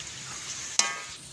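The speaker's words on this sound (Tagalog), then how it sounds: "Haluin lang po natin." Ingredients for tinola sizzle softly in a pan as they are stirred, with one sharp scrape of the utensil cutting through midway and no talk.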